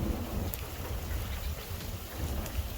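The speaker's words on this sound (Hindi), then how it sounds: "कितनी बारिश हो रही है।" Heavy rain pours steadily in a cold outdoor setting, a dense continuous hiss with low rumbling and no pauses, close and fairly loud.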